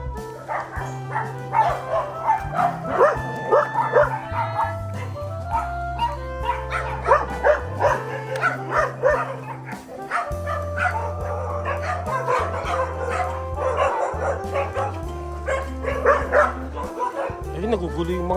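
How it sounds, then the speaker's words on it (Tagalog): Several dogs, including a Belgian Malinois, bark and yip rowdily close by in a loud, continuous clamor, with a voice talking over them. "nagugulo yung mga aso rito"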